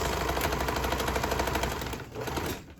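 A Brother XL-2027 sewing machine runs a steady stitching burst, its rapid mechanical clatter loud and close before slowing briefly near the end, with no voices.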